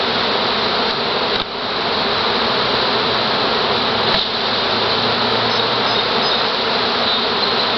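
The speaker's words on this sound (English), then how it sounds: "I'm standing in front of millions and millions of bees." A huge swarm of bees drones in a loud, continuous buzz close by, steady throughout with no voices over it.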